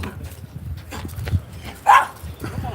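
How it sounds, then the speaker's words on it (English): Dogs bark on a seaside walk around Withernsea. There is a short, moderately close bark amid footsteps and outdoor ambience, and a person talks nearby. "Well, we've got two doggies coming up."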